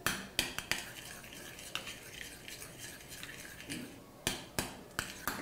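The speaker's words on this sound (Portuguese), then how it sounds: "Agora, com uma colher, eu vou dar uma misturada aqui." Spoon stirring ingredients in a bowl with salt and oregano for a snack recipe, giving repeated sharp clinks of metal against the bowl's side, close and fairly loud, with quieter scraping between strikes and no talk.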